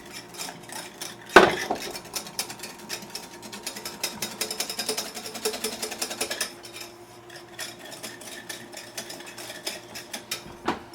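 Béarnaise sauce being whisked in a pan, with a sharp metallic clank near the start followed by rapid, steady scraping and tapping of utensil against metal that fades toward the end.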